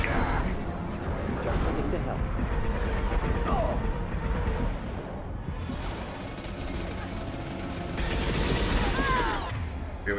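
Gunfire from the video game Mass Effect 2, with dense bursts of shots, mechanical clatter and crashes continuing throughout, swelling louder near the end, mixed with game voices.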